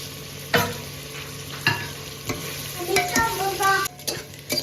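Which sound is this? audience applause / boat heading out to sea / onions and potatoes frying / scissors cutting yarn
onions and potatoes frying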